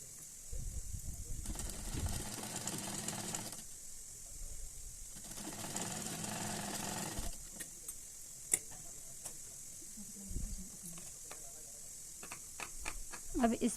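Sewing machine stitching a trouser pocket, running in two steady bursts of rapid mechanical whirring separated by pauses, followed by scattered ticks and clicks while a person speaks nearby.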